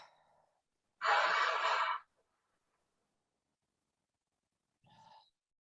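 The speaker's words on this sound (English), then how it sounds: "Exhale out through the mouth. Inhale through the nose." Yoga breathing: a faint breath, then one long, strong exhale through the mouth lasting about a second, and later a short quiet inhale through the nose, with near silence between them.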